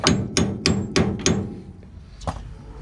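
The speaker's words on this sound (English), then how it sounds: "I don't know if we could just hammer it out." Five sharp metallic hammer blows land in a quick, even rhythm as a lower control arm bushing is hammered out on a truck suspension, followed by a pause and one more strike, close and loud.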